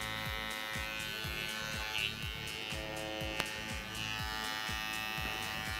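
Electric hair clipper edging the sideburn outline during a basic barber haircut, a steady close buzz with rhythmic strokes as the blade corner is worked against the hair, one sharp click partway through.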